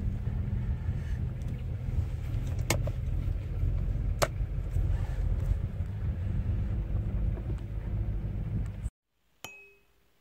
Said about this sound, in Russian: Opel Omega B, разгон до сотни.